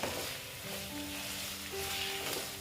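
Bitter gourd and pumpkin sizzle steadily in a frying pan while being stirred, a continuous close frying hiss with soft scraping throughout and no talking.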